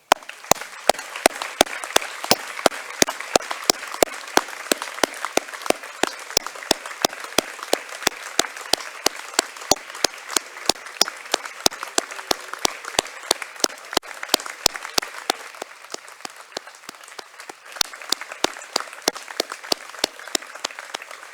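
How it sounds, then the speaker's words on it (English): Graduation ceremony audience giving sustained applause, steady crisp clapping from many hands that holds for about twenty seconds, easing slightly near the end. "So a big applause for you all."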